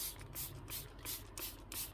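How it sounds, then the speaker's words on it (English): Water sprayed from a spray bottle onto recycled packaging, a series of short hissing bursts in a regular rhythm, fairly faint and close, with no talking. "I'm going to use some water and just spray on there"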